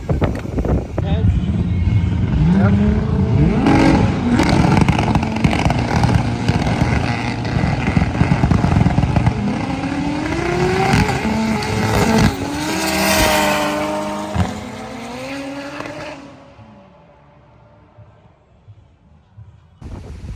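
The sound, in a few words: race cars racing on a track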